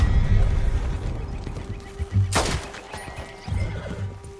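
A single sharp gunshot cracks out midway through a Red Dead Redemption scene, loud and abrupt, set against softer horse snorts, hoof movement and low outdoor game ambience.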